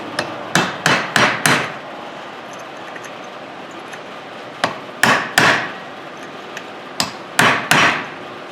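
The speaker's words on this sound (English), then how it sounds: "we're going to take our chisel, give them a few love taps down to help equalize them" A hammer tapping a chisel against the bearing caps of a Dodge Ram Cummins front driveshaft during reassembly: sharp metallic strikes in quick clusters of three to five, with quiet gaps between groups, close and loud.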